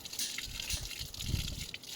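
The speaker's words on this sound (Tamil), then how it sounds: "இந்த ரெண்டையுமே தண்ணியை நல்லா வாஷ் பண்ணி எடுத்துடலாம்." Water splashes and runs as two dusty air-conditioner filters are rinsed by hand after brushing, giving irregular close gushes and trickles with no talk.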